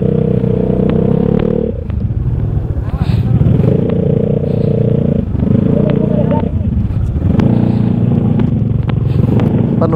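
A motorcycle engine revs hard in bursts on a rough track, loud and close, dipping between throttle pulls, with rattling and scraping and voices talking over it.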